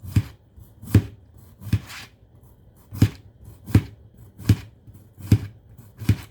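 A knife slices through a zucchini on a cutting board, eight or nine crisp, evenly spaced chops close up, with quiet pauses between each cut.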